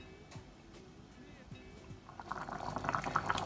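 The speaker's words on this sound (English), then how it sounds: "the pot started boiling up again" Jamaican curry goat bubbling in a Dutch pot, a soft simmer that builds into a louder, denser boil with scattered pops over the last second and a half, close by, with a voice faint in the background.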